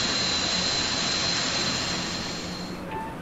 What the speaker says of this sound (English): the relentless aeroplanes passing overhead